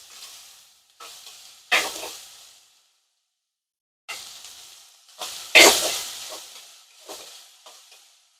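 Sliced onions sauté with salt in a hot pan as the base for a squid roast. Loud, close bursts of sizzling hiss come with stirring, separated by quiet gaps, and no voices.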